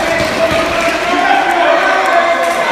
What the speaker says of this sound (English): Crowd urging Alex Jordan to get to the corner and make a tag.